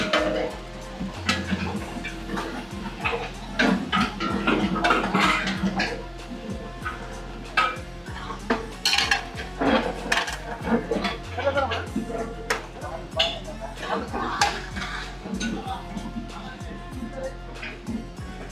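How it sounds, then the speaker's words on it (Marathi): Garlic-ginger paste being stirred and sautéed in a large pan in a hotel kitchen cooking chicken and mutton, with metal utensils scraping and clattering repeatedly against cookware amid busy kitchen noise, loud and close. "व्यवस्थितपणे आपण लसण अद्रकची पेस्ट परतून घेणार आहोत एकदम."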